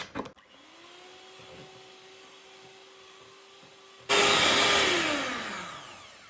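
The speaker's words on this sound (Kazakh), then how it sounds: "Көтерілгенше қазір миксерлейміз." Electric hand mixer beating batter with sugar for a pie, a steady whirring motor tone that jumps much louder partway through as the beaters bite in, then gradually eases, with no talking.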